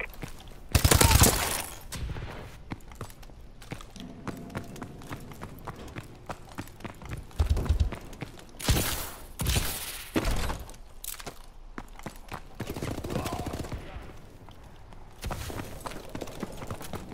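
Gunfire bursts in Call of Duty: Advanced Warfare, with shotgun blasts and rapid shots. They come as loud, sharp clusters between quieter stretches of footsteps and game noise, with no talk.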